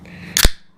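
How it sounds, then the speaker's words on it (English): A can of Moosehead Pale Ale cracks open with one sharp pop and a short hiss of escaping gas, close and crisp, after a brief quiet handling sound. "And I'll crack this can open."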